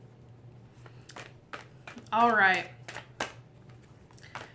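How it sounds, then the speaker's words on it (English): A deck of tarot cards is shuffled and cut in soft, scattered riffles and taps, with one brief louder burst midway, under a short spoken remark. "I'm just kind of cutting the deck around."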